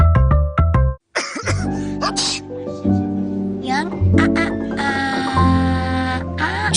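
Coughing in a flu and cough medicine advertisement: a few sharp coughs open, followed by a steady blend of music and voices that continues to the end.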